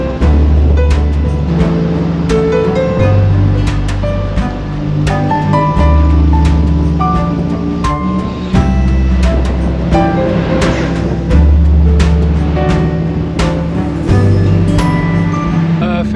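A Morgan 4/4 75th Anniversary roadster climbs the Timmelsjoch mountain pass, its engine droning loudly and steadily with gear changes shifting the pitch, heard close from the cabin with wind rush.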